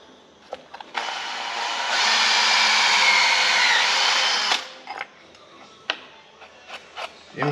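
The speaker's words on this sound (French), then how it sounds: "maintenant on va percer tout ça en 5." A power drill boring 5 mm holes along a marked line, a sustained high whine for a few seconds, followed by scattered short clicks and knocks of handling.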